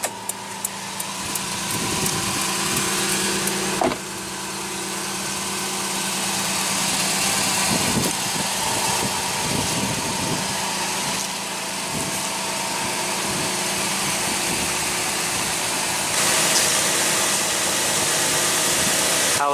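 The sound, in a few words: 2015 Toyota Tacoma 4.0L V6 engine idling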